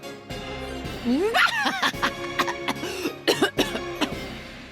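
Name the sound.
cough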